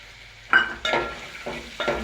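Peanuts tossed into hot oil in a pan while cooking poha with potatoes, with a few distinct scraping stirs and bursts of sizzling at a steady interval, close and clear, with no voices.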